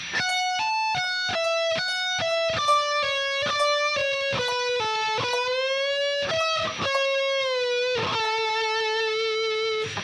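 Slow electric guitar lead from a song's solo, single notes picked one after another with bends and sustained tones, played alone without other instruments.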